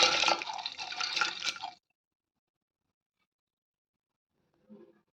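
Soaked green gram is tipped into a pot of heated water, making a loud watery splash and pour for under two seconds, then near silence before a brief faint clink.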